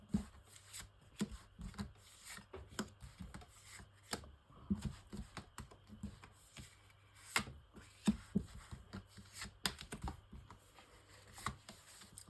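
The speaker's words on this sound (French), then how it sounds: "tirage en 9 cartes pour nos amis vierges pour le mois" Tarot cards shuffled by hand for a nine-card spread, a steady run of soft riffles, slaps and taps close to the listener for several seconds, with no talking.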